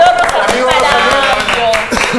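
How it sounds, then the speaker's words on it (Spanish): A short burst of clapping from a TV show audience welcoming a caller, loud and close, with voices talking over it. "¡Aplausos a Rosamel!"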